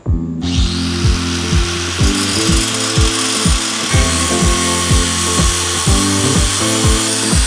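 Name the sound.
power tool cutting off Corvette muffler exhaust pipe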